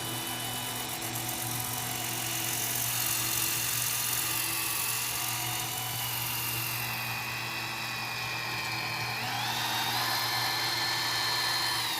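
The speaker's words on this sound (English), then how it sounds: "Let's get to a bit of sanding." A power sander runs steadily against wood turning on a lathe, giving a continuous high whirring drone with a constant motor hum underneath and a shift in pitch near the end.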